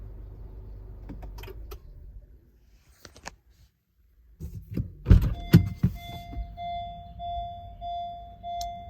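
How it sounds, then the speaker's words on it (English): A 2021 Honda CR-V EX-L is switched off after parking; the low engine hum cuts out into silence, followed by clicks and thumps from the cabin and a repeating electronic warning chime. "let's go ahead and turn off the car"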